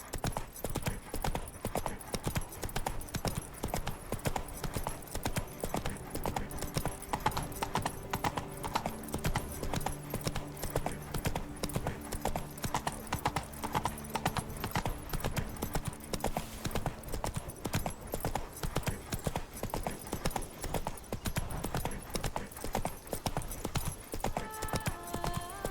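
In Witcher 3, the horse Roach trots with steady, rhythmic clip-clopping hooves that continue throughout, with faint game ambience beneath.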